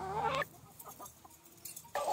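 Chickens clucking in their backyard run, with a few soft, close clucks and calls scattered through a quieter stretch between two louder bursts of fowl noise.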